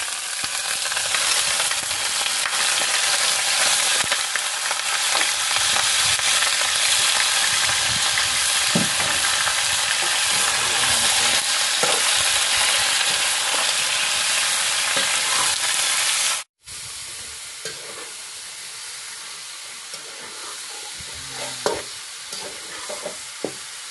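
Pork sizzles and crackles steadily in a hot pan for Filipino adobo, a dense continuous frying hiss that cuts off briefly, then resumes softer with occasional stirring knocks.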